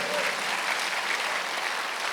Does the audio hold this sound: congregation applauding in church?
yes